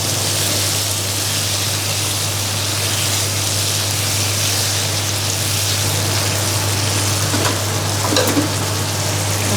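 Beef stir-frying in a hot pan gives a loud, dense, continuous sizzle close by, with a low steady hum beneath and brief scraping near the end; no one speaks.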